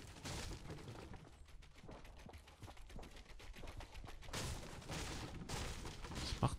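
Silenced SMG firing in Fortnite, a run of muffled, rapid shots in bursts with some breaking and impact noises, fairly quiet overall.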